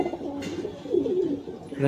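A female competition pigeon in a loft in Behala, Kolkata, giving soft close low coos, with a voice briefly speaking alongside.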